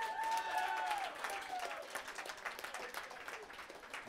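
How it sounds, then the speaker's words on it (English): Applause for the musicians at an open mic night, a dense wash of clapping from a small crowd that starts loud and slowly thins. Bits of chatter sit underneath, and a few tonal sounds ring out near the start. "So round of applause to all the musicians who are playing here tonight."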